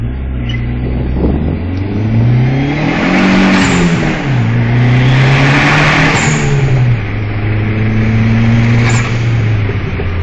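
A bored-out, supercharged-style PT Cruiser GT SRT4 pulls hard under 20 pounds of boost, its engine note rising and dipping through gear changes, loud and close from inside the cabin.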